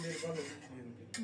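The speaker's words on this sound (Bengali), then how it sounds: "ভালোভাবে নেড়ে চেড়ে সব কিছু মিশিয়ে দিলাম" A spoon stirs sago khichuri in a cooking pot, giving a brief, faint scrape with light metallic clinks against the pot's side.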